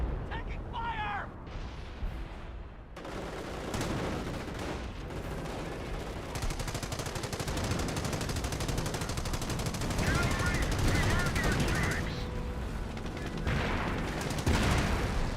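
Rapid machine-gun bursts and scattered rifle fire from a Company of Heroes battle, dense and continuous under a caster's voice, with a few distant explosions mixed in.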